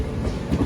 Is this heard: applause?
no